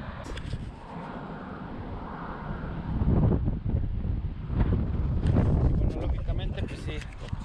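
Strong wind buffets the microphone in gusty, rumbling surges that swell in the second half, with people talking underneath.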